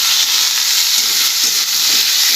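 Spice paste fries hard in a pan for a boal fish curry with taro stolons and potato, giving a loud, steady, close sizzle with hissing and faint stirring scrapes and no talking.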